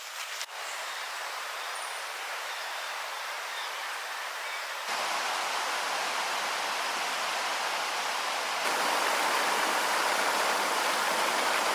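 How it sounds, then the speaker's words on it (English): Clear creek water flows steadily through Australian wilderness, a constant close hiss of running water that grows louder in two steps. No voices are heard. "We've just got some beautiful water here, so clear."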